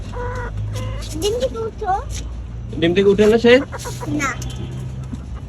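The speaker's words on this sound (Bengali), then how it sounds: "এই যে মুরগির ডাক" A hen that has just laid an egg clucks repeatedly in short, rising calls, close by, with a person speaking over and between the clucks, in a rural setting.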